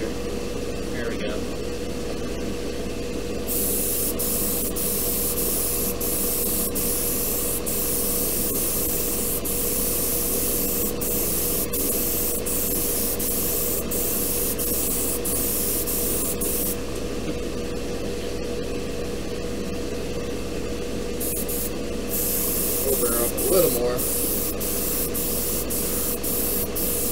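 Airbrush spraying paint onto the hull of a War of the Worlds war machine model, a steady close hiss over the hum of a nearby compressor, with brief handling noises.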